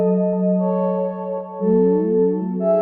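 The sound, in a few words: synth main melody, Omnisphere Moog modular bank with granular effect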